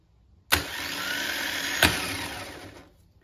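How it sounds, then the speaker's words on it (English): A 1972 VW Beetle starter motor on a bench test spins up with a sharp click, whirs in a steady high electric whine for about two seconds with a second click midway, then winds down. "So you just seen there, bench testing a starting motor."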